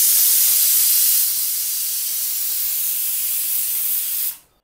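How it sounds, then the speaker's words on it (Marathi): A pressure cooker holding soaked chickpeas in water with a little soda on a low flame vents steam as a loud, steady hiss that holds for about four seconds and then quickly dies away, with no talking. "आता झाकण लावून कमी फ्लेमवर 3 शिट्ट्या देऊन घ्यायच्या आहेत।"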